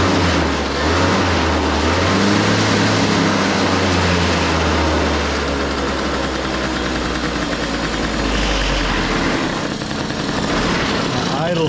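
A 2008 Yamaha Zuma 50 two-stroke scooter idles steadily and close, a constant rough buzzing drone that dips slightly low near the end, with faint voices in the background.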